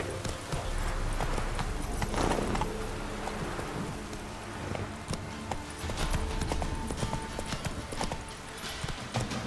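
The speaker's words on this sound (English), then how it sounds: "Run, Roach" Horse hooves galloping in The Witcher 3 video game, a rapid continuous clip-clop rhythm over ambient outdoor game sound, steady throughout with a faint rain-like hiss in the background.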